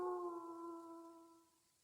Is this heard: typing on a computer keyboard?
no